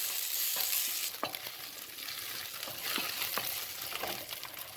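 Cashews frying in a couple of spoons of ghee for rava payasam, a steady close sizzle with intermittent sharp stirring clinks and scrapes of a spoon against the pan.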